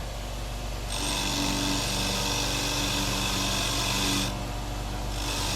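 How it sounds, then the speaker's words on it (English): A Harbor Freight Bauer 8-inch variable-speed bench grinder hums steadily, then grinds rusty threaded bolts in a loud, rough hiss that runs for about three seconds, stops and briefly returns, all under a constant motor drone. "Got a couple rusty, crusty, threaded bolts, right? Let's give it a spin."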